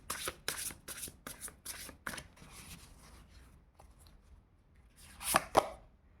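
Tarot cards are shuffled in quick riffling bursts, a run of crisp close flicks, then a quieter lull before two sharp snaps as cards are drawn.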